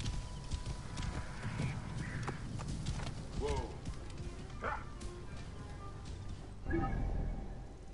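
Horse hooves in the Assassin's Creed Origins video game, a quiet rhythmic clip-clop running steadily under other game sounds and faint voices, with a few sharper hits and cries scattered throughout.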